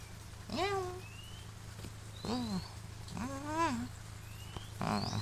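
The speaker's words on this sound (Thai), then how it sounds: "แมวร้องเลยทีเดียว" A cat meows four times, drawn-out rising and falling cries spaced about a second apart, moderately close over a steady background hum and faint game sounds.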